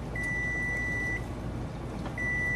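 An oven timer in a home kitchen beeps in two long, steady tones about a second each, separated by a short pause, fairly faint over a low background hum.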